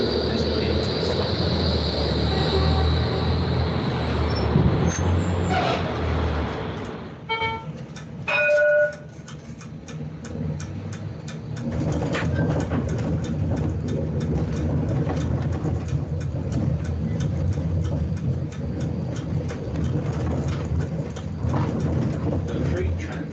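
A tram rumbles steadily over track points as it rolls into a stop, with a few sharp clicks and clunks from the points midway and a high squeal early on, heard from inside.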